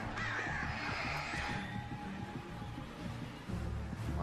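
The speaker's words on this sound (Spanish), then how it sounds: "Odio a estos estúpidos pájaros." Crows cawing in the survival horror game Alan Wake, harsh repeated caws close by over a steady dark ambient bed, loud and continuous through the whole stretch.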